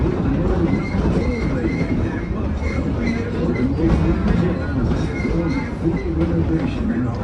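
Tweetsie Railroad train riding on its tracks, a continuous close rumble with rhythmic clickety-clack and occasional wheel squeal, while a narrator talks over the running train.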